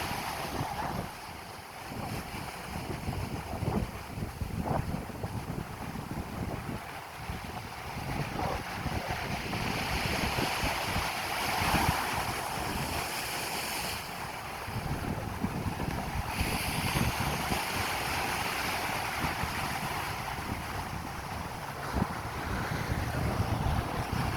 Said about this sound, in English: these waves are strong